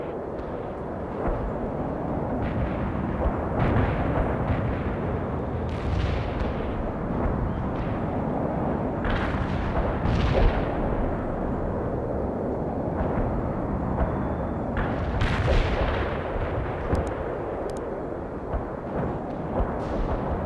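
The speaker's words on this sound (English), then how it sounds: "Artillery strike is inbound." Artillery strike explosions in the World in Conflict video game rumble continuously, with repeated heavy booms and crackling blasts layered over a dense, loud battlefield roar.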